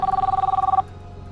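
A telephone rings during a call to the police: a steady, rapidly pulsing electronic ring tone sounds close and clear for under a second, then cuts off into quiet room hiss.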